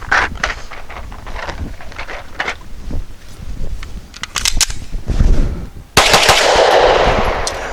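Rapid, loud pistol shots from a Canik TP9 Elite firing Speer Gold Dot 115 grain hollow points outdoors, cracking in quick irregular strings over wind noise, closing with a louder, denser burst.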